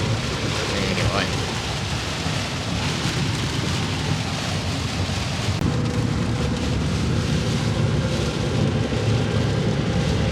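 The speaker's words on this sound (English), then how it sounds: "Well, the rain's starting to clear out now" Steady heavy rain drums on a truck during a thunderstorm, with low rumbling thunder rolling underneath the constant wash of rainfall throughout.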